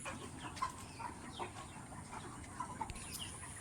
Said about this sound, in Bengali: এখানে কিন্তু মুরগির ফার্ম